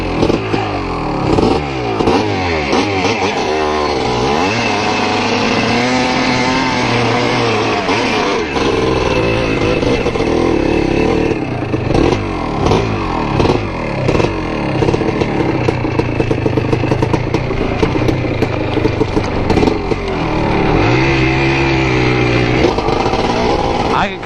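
A 1981 Yamaha IT250 two-stroke dirt bike ridden through the woods, its engine loud and close, rasping and revving up and down with constant throttle changes, clatter and surges throughout.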